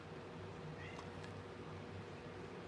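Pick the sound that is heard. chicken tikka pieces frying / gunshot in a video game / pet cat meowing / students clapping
pet cat meowing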